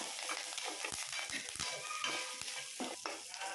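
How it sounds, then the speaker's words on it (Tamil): Shallots, garlic and a sprig of curry leaves sauté in a kadai with a continuous bright sizzle, punctuated by a few soft scraping stirs of a spatula, steady and close. "நல்லா வதக்கிக்கலாம்."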